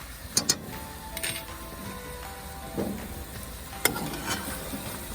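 Carrots, sweet pepper and celery being stirred into a pot of Trinidad stew chicken cooking outdoors, with soft sizzling under a few scattered spoon clicks and scrapes, close and moderately quiet.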